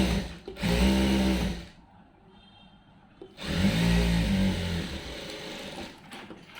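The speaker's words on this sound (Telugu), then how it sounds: "ఇలా పెట్టి స్ట్రైట్గా కుట్టు వేసుకుంటూ వచ్చేసేయాలి" A sewing machine stitches a blouse lining in two long bursts of fast mechanical whirring, loud and near, with a quiet pause between runs and no talking.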